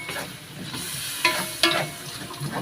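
Green and red chilies are stir-fried with chicken in a hot pan, giving a steady sizzle broken by two sharp scraping bursts of stirring.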